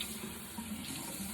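Warm water runs steadily from a tap in a bathroom sink, a soft continuous hiss of flow heard close and alone.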